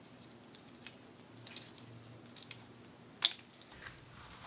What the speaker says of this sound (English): do a small adjustment with some heavy-duty scissors on this